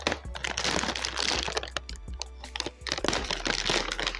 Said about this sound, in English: I'm just going to be opening this with a scissors